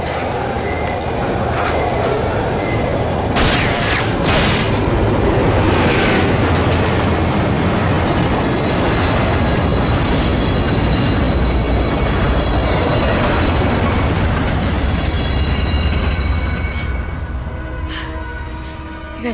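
A loud subway train roars continuously, a heavy rumbling rush with metallic squeals and rattling that barely fades over the whole stretch.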